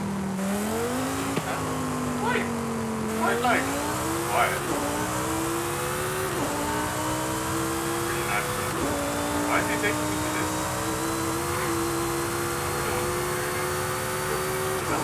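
A car in Forza Horizon 5 drives with a steady engine drone that climbs through repeated gear shifts, sustained and fairly loud, while people talk over it throughout.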